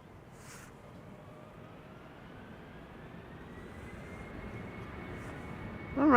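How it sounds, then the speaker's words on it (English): A German Airways jet flying for KLM departs from Amsterdam Schiphol, its faint, distant engine roar and thin whine slowly swelling louder across the clip. "Alright, German Airways. Flying on behalf of KLM, flight 1285, going to Aalborg."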